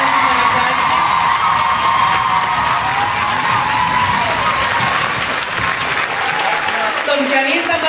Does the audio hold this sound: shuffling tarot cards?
no